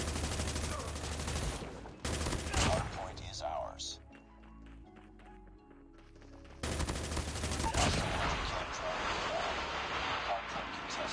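Loud automatic gunfire bursts in Call of Duty Mobile, a dense stretch of shots at the start, a quieter lull with faint effects and a tonal cue, then another sustained volley, with talk mixed in.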